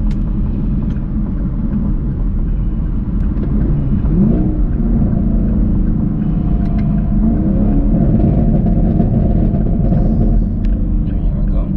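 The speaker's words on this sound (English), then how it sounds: "Get y'all some of that downshift action." Engine of a Chevrolet Camaro SS fitted with a Pedal Commander, heard from inside the car with the window down as it downshifts, a loud continuous low rumble and drone throughout.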